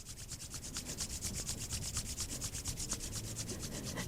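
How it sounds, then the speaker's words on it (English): Palms rubbing together rapidly during a yoga session, a steady, fast, continuous swishing friction with an even rhythm, close and moderately quiet, with no talking. "Take a moment to rub your palms together rapidly"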